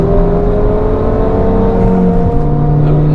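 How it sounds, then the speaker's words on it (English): A Mazda MX-5 with a big non-stock exhaust drones loudly with a deep, throaty exhaust rumble, steady and close throughout, at the Nürburgring. "nice MX-5, big exhaust. Doesn't look stock. Doesn't sound stock either."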